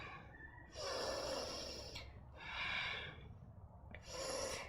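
A person breathing hard during a low-impact abs and glutes home workout, three long forceful breaths, alternating exhales and inhales, close and clear with no talk.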